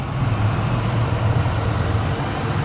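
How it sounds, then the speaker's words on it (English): Steady engine idle of a 2015 Dodge Caravan SE Plus minivan with 81k miles, a low even rumble with a constant hum that holds without change throughout. "Underneath the hood, engine idles smoothly."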